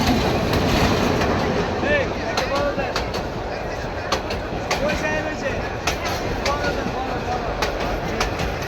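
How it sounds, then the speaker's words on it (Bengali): A train runs along the railway line through Tongi's Boubazar market, rumbling and clattering steadily up close for the whole stretch, with market voices and chatter mixed in. "আমার পাশে ট্রেন যাচ্ছে"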